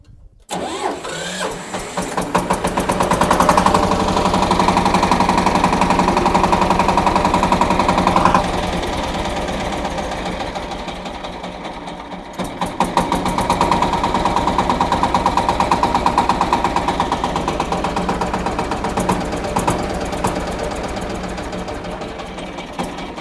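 A Shifeng SF240 BFLU mini tractor's small engine cranks, catches and settles into a loud, close, rattling run. Its revs rise and dip through two long stretches, with no voices over it.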